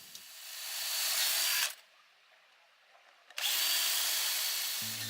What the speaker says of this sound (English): Drill some holes for the stainless screws.